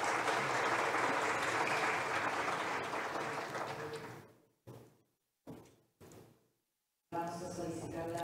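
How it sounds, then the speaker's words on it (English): Audience applause at a regional internet registry policy meeting, a sustained clapping that fades out after about four seconds, then a few short bursts before clapping resumes. "A round of applause."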